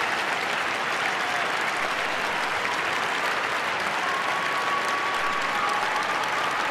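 Packed arena crowd at the 1994 Lillehammer Olympic women's figure skating free skate applauding, a dense, sustained wash of clapping heard from within the stands with faint whistles and cheers mixed in.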